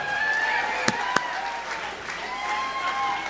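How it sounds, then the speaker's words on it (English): A small audience at the True/False 2013 festival applauds steadily for a few seconds for a person coming up to the stage, a continuous wash of clapping with a couple of sharp nearby claps. "Round of applause for Betsy."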